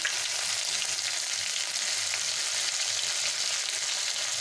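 Cumin and bay leaf tempering fries in oil with ginger paste in a pan for a pumpkin curry. A steady, even hissing sizzle fills the whole stretch, close and unbroken, with no talking.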